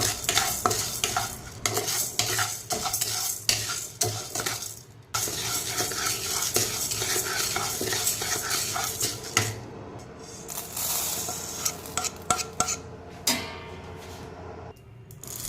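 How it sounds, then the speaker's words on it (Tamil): Lentils dry-roasting in a pan for idli podi, stirred with a utensil: a steady dry rattle and scraping runs throughout, with sharper clinks and shuffles coming and going, close by and with no voices. "அதுவும் நல்லா கோல்டன் ப்ரௌன் ஆகிற வரலும் வறுத்து எடுத்துக்கணும்."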